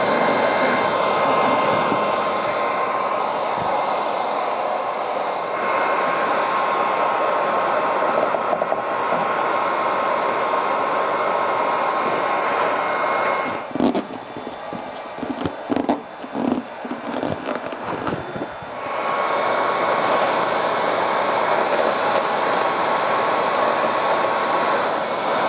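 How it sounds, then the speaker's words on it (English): A heat gun blows steadily on the convertible top of a VW Mk1 Cabriolet, a constant loud airy whoosh that breaks into irregular fluttering and rustling for a few seconds midway before settling back to a smooth blow. "So I found that a little persuasion with a heat gun will help it kind of retain its shape"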